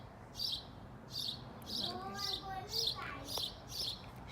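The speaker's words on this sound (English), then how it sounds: "Wait, is that a bird?" A small bird chirps in a steady repeating pattern, bright short calls about every half second. Over the top sits a faint background hum and a brief warbling phrase in the middle.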